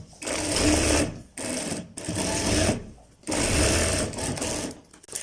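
Domestic sewing machine stitching a seam on a ladies suit, loud continuous whirring runs broken by brief pauses, close by and alone.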